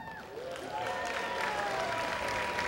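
Studio audience at a dating game show applauding to vote for a bachelor, steady clapping that swells after a moment and continues, with faint crowd voices mixed in.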